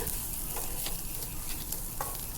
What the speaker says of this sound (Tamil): நம்ம தூதுவளை இலையெல்லாம் வச்சு அரைச்சோங்கள அதை பேஸ்ட்டு உள்ளே சேர்த்து நல்லா ஓட்டி விட்டுக்கோங்க